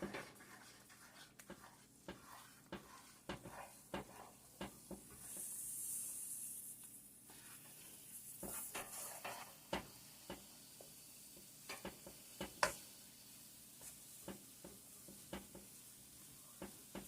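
A pot of Guyanese parsad halwa dough is stirred constantly, giving quiet scraping and hissing with intermittent sharp clicks and taps of the spoon against the pot, faint and close, with no talking.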